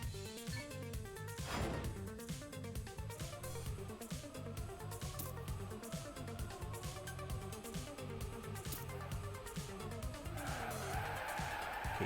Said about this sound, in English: Okay, good drift here from Shocker.